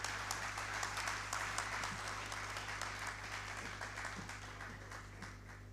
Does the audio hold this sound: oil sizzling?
no